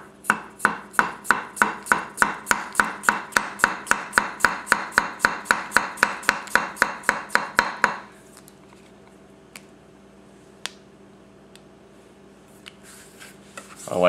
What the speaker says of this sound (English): I know potatoes are usually pretty easy to cut,